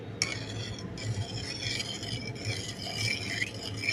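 A spoon stirs milk with yogurt starter in a pot, giving a continuous close scraping and swishing with faint metallic clinks against the pot, steady throughout and without speech.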